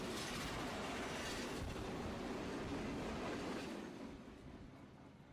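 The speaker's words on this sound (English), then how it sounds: "Freight train going through a light rail station." A freight train rumbles loudly through a light rail station, a dense continuous roar of wheels and rail noise close by that begins to fade after about four seconds.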